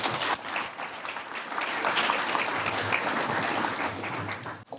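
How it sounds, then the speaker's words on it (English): Sustained audience applause fills a nonprofit convening breakfast program, a dense steady wash of clapping from a large room that holds for several seconds before cutting off abruptly. "Please give yourselves and Elizabeth a round of applause as she joins me at the podium."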